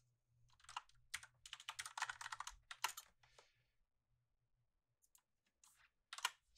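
Computer keyboard typing in bursts of rapid clicks while entering Java code, fairly quiet and close, with pauses between runs of keystrokes and no speech.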